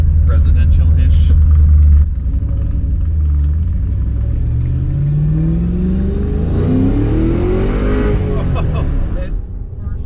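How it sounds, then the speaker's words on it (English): A 1998 Mustang Cobra on a residential street accelerates under throttle, its loud engine rumble climbing steadily in pitch over several seconds before easing off near the end. "give it a little gas out here outside the neighborhood"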